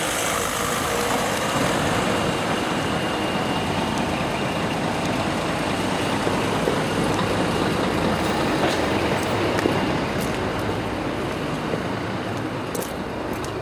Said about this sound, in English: I've just got to wait for this car to go past.